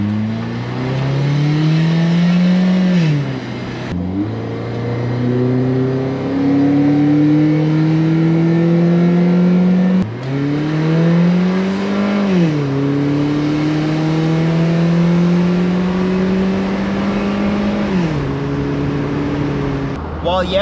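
A BMW Z3 sports car engine revs hard and loud while driving on back roads, its pitch climbing through the gears and dropping briefly between shifts.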